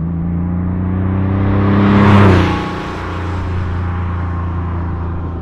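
A 1989 Porsche 911 Speedster drives along a country road, its engine humming steadily and swelling briefly louder before settling back to an even drone, with no talk.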